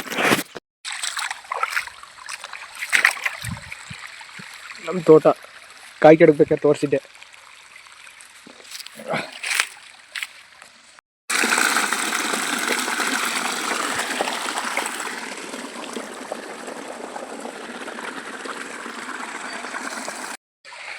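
Irrigation water flows steadily into a farm plot in an Indian village for about nine seconds, a continuous rushing gush that follows a stretch of someone talking.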